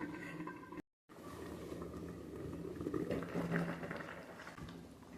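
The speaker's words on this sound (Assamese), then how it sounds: "এতিয়া অলপ উতলিব দিছোঁ।" An Assamese-style fish curry with tomato simmers in a pot, giving off a steady close bubbling and soft patter that runs on after a brief cut near the start.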